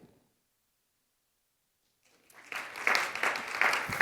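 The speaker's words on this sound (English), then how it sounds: "why don't we give a round of applause to our sponsors" An event-industry conference audience claps for the sponsors. The room is silent for about two seconds, then applause swells in and stays fairly loud and dense to the end.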